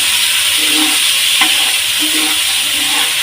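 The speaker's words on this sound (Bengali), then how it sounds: "একটু ভালো করে এটাকে কষিয়ে নেব" Tomatoes stir-fried in a pan for a Bengali fish curry, giving a steady low sizzle and hiss with a few soft scraping stirs and one brief clink, close and continuous, without speech.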